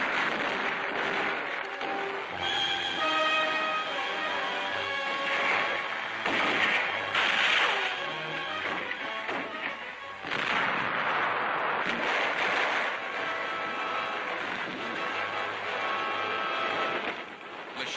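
Mortar fire in a 1944 Pacific War battle: repeated loud booms and blasts at irregular intervals, with crackling gunfire between them, recorded as an old newsreel soundtrack.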